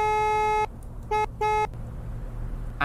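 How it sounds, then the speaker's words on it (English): Horn of a 1969 BullHorn Prancer TR in the Greenville video game: one long bright electronic honk followed by two short blasts, loud and alone against a low background hum. "Here's what its horn sounds like."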